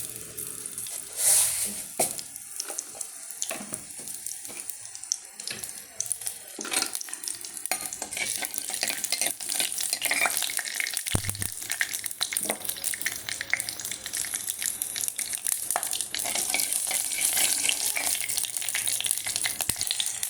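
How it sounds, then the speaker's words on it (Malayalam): Mustard seeds crackle and pop in hot oil in a pan for a homestyle rasam, with small onions added. Close, steady sizzling is broken by scattered sharp pops throughout, with no voices. "കടുക് പൊട്ടുമ്പോൾ"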